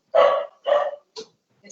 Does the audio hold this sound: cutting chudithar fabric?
no